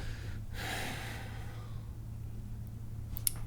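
A voice imitates a character gasping for breath during a tabletop game session, with one sharp breathy intake near the start, then quieter breathing and a soft click at the end.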